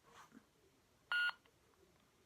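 A single short electronic beep tone from a lightsaber hilt sounds alone in a quiet room, preceded by faint soft rustling.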